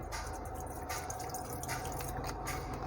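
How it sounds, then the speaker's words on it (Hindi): Water is poured into a Kenwood electric kettle, a soft, quiet trickle and splash filling the vessel for a few seconds. "मेरे पास ये पानी है, मैं पानी डाल के आपको चेक करवाता हूँ"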